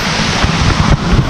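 A roughly 100-metre waterfall near Nejapa, El Salvador rushes with a steady, loud broadband roar, close and constant, with wind buffeting the microphone and no talk.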